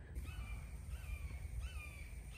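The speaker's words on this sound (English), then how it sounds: "There's a cool hawk squawking up here." Harsh hawk squawks ring out a few times at a distance in Broward County, Florida, rasping calls spaced irregularly over quiet outdoor background noise.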